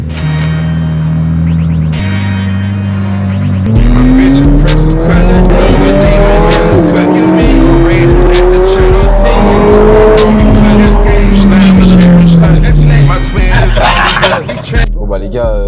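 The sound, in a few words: McLaren 720S driving with tire squeal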